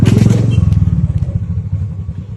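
A motorcycle engine runs close by on a road in Punjab, a loud, throbbing idle-to-rev rumble that holds steady, then eases slightly as it pulls away, with no talk over it.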